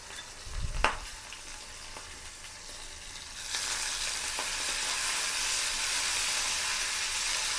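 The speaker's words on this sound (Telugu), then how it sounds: "కొత్తిమీర ఎక్కువసేపు వేగి పని లేదు, మెత్తబడితే ఇలాగా ఆయిల్లోని కొంచెం మగ్గినట్టయితే సరిపోతుంది." Coriander leaves dropped into hot oil in a pan, starting with a soft stir and clatter, then breaking into a steady, bright sizzle that continues evenly to the end.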